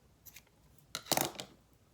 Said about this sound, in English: when we're done, we'll cut it off